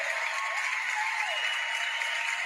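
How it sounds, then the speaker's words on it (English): A live auction crowd applauds in a steady, dense wash of clapping that holds at an even level from start to finish, with no voices standing out. "let's give a nice round of applause to my friend Mark"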